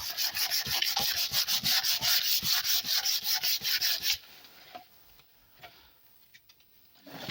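Rhythmic back-and-forth scraping of sandpaper by hand on a Peugeot 306 car body part, about four seconds of quick even strokes, then it stops and only faint taps and rustles remain.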